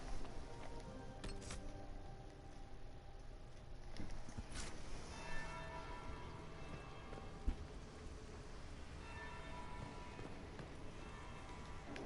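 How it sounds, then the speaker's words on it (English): A bell tolls in a fantasy video game set in Thedas, faint and distant within dense ambient background noise over a long stretch, with no speech. "That's the bell."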